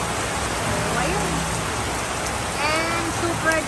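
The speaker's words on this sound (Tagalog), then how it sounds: "Sobrang lakas ng ulan." Heavy typhoon rain pours down in a loud, unbroken roar, with faint voices and distant sounds barely rising above the downpour.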